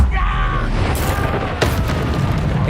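A spell blast goes off in Hogwarts Legacy, a sharp booming burst that flares suddenly mid-clip over a steady low rumble of game ambience, with faint voice and battle sounds around it.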